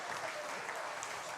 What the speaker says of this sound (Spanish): démosles un fuerte aplauso a Jen